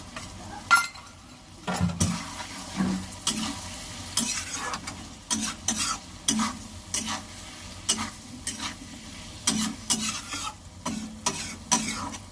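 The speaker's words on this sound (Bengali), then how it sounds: "এবার মশলাটা দিয়ে দেব, দিয়ে ভালো করে কষিয়ে নেব।" Spice masala for a tuna fish curry stir-fried in a pan: a soft sizzle under rhythmic spatula scrapes and clinks against the metal, repeating about once a second, close by and without talk.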